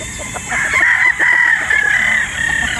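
A broodstag game rooster crows loudly nearby, one long drawn-out call over a steady background hum, on a windless day.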